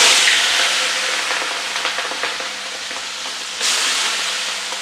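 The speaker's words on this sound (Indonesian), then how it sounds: "Kita goreng sampai garing ya." Small anchovies sizzle steadily in hot cooking oil, a dense, continuous frying hiss close by with a brief surge of crackle near the end; no talking.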